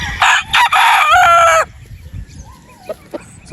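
A pure gray rooster crows loudly and close by in one long, strained call, followed by quiet background noise and a few faint distant sounds.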